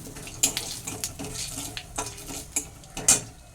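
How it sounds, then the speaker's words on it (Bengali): Dried red chilli and nigella seeds tempering in hot mustard oil, a light sizzle broken by scattered clinks and scrapes of a spoon against the pan, close and without talk. "এবার এতে একটা শুকনো লঙ্কা ফোড়ন দিচ্ছি আর অল্প কালো জিরে ফোড়ন দিলাম"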